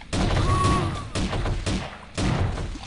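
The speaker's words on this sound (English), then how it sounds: "Shotgun." Shotgun blasts in the shooter game Cube 2: Sauerbraten, three loud booming shots spaced about a second apart, each with a rough decaying tail.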